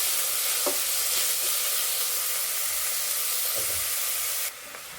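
Ingredients for tomato rice sauté in hot oil until golden brown, giving a constant loud, close frying hiss with a few faint stirring taps and a sudden drop in level near the end.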